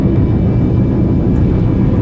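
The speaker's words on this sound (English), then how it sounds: "Looks like a plane's coming in for a landing." A fixed-wing airplane coming in to land, heard as a steady, continuous low engine roar that holds at an even level throughout, with no talk over it.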